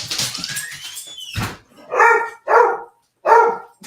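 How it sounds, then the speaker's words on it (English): A dog barks three times in quick succession, close and loud, indoors near a door, after a brief stretch of other household noise. "Oh my God, dog."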